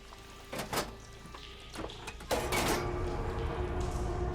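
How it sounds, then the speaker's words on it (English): Machinery in the Horizon Forbidden West video game switches a water flow: a few sharp mechanical clunks and rattles, then a louder burst that settles into a sustained rushing water noise. "Sounds like the water's switched."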